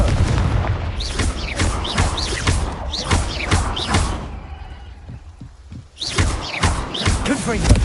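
Repeated fiery Confringo explosive spell blasts from Hogwarts Legacy, a series of sharp booming bursts roughly every half second, loud and close amid game battle noise, with a short lull before the blasts resume.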